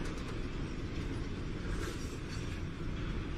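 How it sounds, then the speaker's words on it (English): Long freight train of wagons hauling pure copper rolls steadily through the Atacama desert, a continuous dense rumble and rattle of wheels and cars at close range, with no voices. "pure copper rolls out of the desert on huge, never-ending wagon trains"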